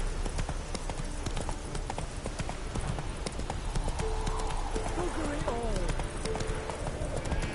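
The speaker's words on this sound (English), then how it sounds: "Spooking my horse." Horse hooves clip-clop steadily in The Witcher 3: Wild Hunt – Hearts of Stone, a close, even walking rhythm that runs throughout under spoken dialogue.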